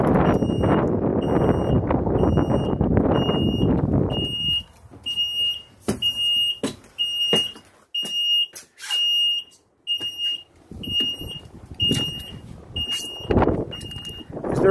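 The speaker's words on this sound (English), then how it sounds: "The beep is to let you know that the door is open." A bus door-open warning sounds as a steady series of short, evenly spaced high beeps, starting after a few seconds of low rumbling noise and repeating to the end, fairly close and clear over faint background sounds.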